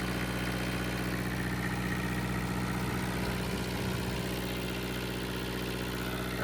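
A John Deere diesel engine idles steadily aboard a Nordhavn boat, a constant low rumble with a fixed harmonic drone and even vibration, close and loud throughout with no talk.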